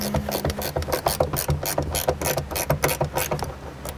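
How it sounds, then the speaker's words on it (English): A box end ratcheting wrench tightens bolts on a Jeep JKU Rubicon, giving a close, steady run of rapid clicks with no talk. "you can use a box end ratcheting wrench and tighten it down that way, which will obviously save you quite a bit of time"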